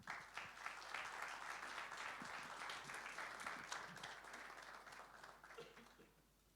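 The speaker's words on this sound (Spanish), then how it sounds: "Lo recibimos con un gran aplauso." A conference audience at an energy event gives a warm round of applause, steady clapping that gradually thins and fades out toward the end.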